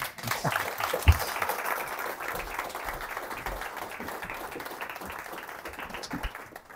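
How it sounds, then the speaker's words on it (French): An audience claps for two speakers, a moderate, diffuse patter that swells briefly near the start and then tapers into a thinner, scattered clapping. "Et on peut les applaudir tous les deux."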